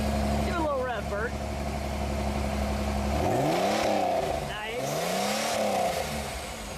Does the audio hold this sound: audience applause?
no